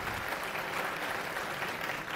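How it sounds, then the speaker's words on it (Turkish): Steady, dense clapping fills a crowded hall at a panel opposing the constitutional change and presidential system in Aydın, applause for the chairman with no voices over it. "Başkanımız alkış hak etti."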